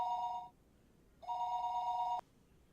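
Telephone ringing in the Higurashi video game: two electronic ring bursts, a short one and then a longer one, clear and close with no other sounds, the second cut off abruptly.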